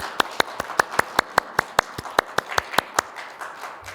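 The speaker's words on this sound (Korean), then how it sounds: "우리 감사와 영광의 박수를 크게 한번 드리겠습니다" A church congregation clapping in unison, about fifteen sharp, evenly spaced claps in a steady rhythm, clear and fairly close, with no speech.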